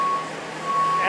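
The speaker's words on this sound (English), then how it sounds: "And there goes the final cement truck." A cement truck's reversing alarm beeps at a barndominium concrete pour, sounding as two long tones over a steady engine rumble, fairly close.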